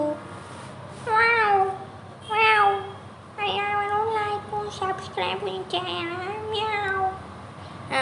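A cat meows repeatedly in the Roblox Brookhaven game: about five or six clear, loud, drawn-out meows spaced across the stretch, with a voice briefly heard speaking.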